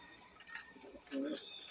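A pet fancier's pigeon named Choco Stick, a hen with an egg, gives one short low coo near the end amid faint rustling and soft background chirps.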